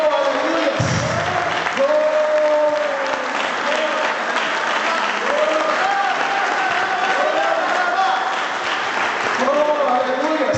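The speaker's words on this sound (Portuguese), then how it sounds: "Dê uma linda salva de palmas ao nosso Senhor Jesus Cristo." Church congregation at a Baptist church anniversary service giving a sustained round of applause, loud and continuous with shouts and cheering voices mixed through it.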